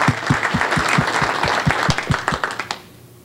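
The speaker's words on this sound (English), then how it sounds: "Let's give these guys a round of applause." A room full of people applauding, dense clapping with some louder individual claps standing out, fading quickly to quiet at the end.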